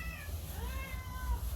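Hungry cats meowing in a yard, a few drawn-out rising and falling meows overlapping, faint against a low background rumble, with no talking.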